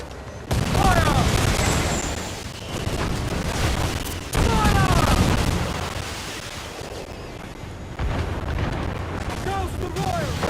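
Ship cannon broadsides in Assassin's Creed 4 naval combat, with repeated heavy booming volleys and rumbling over the game's score, loud and continuous, with shouted commands over the top.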